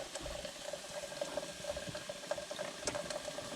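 Quiet, continuous bubbling of liquid at a boil, with small pops rising now and then; no voices.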